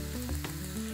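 Ingredients for a pumpkin Alfredo sauce frying in a pan, a brief steady sizzle with low hum and a soft clack in the middle.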